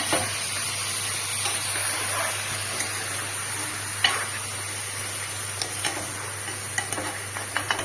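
A pot of mutton dabba curry is stirred gently while it simmers, a steady sizzling bubble with soft scraping and occasional light clicks of the spoon against the pot, no talking.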